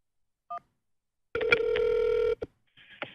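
A single short telephone keypad beep from pressing key 1 during an automated call-centre phone message, followed by a longer steady phone tone and then a fainter tone.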